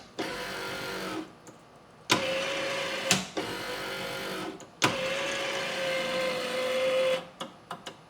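A newly installed power window motor in an old abandoned station wagon whirs in several separate runs, each a steady mechanical hum lasting a second or two, broken by clicks and short pauses, close and fairly clear.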